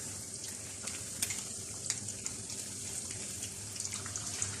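Pre-cooked chicken pieces fry in a pan, giving a steady close sizzle with scattered pops and light clicks throughout and no speech.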